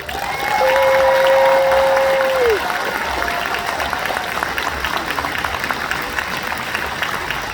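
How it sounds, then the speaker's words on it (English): Crowd applause at a July 4th march in Burlington, Vermont, a steady wash of clapping with a loud sustained tone over it early on, continuing evenly to the end. "Can we get one more round of applause for Brandon?"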